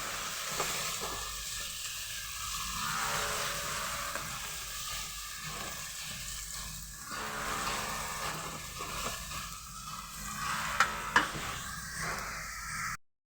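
Flat beans with green and dried chillies sizzling steadily in a pan while being stirred, a continuous frying hiss with soft scraping, close and fairly quiet, with a couple of sharper clinks near the end.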